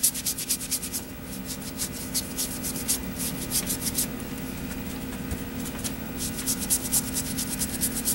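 A dry brush rubs rust-coloured paint onto a model tank kit, making quick, rhythmic scratchy strokes in short bursts that sound close and quiet.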